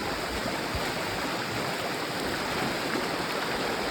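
Strong stream water rushes loudly and continuously, a dense steady roar with no gaps, heard at night while wading through a fast current during a crab-catching outing.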